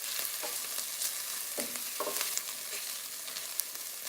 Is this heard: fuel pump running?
no